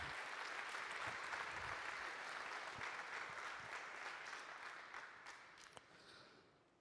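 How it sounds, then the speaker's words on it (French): A crowd at a French association's annual general assembly applauds, dense steady clapping that carries on for several seconds, then tapers off toward the end with a few scattered claps. "Donc je pense qu'on peut les applaudir."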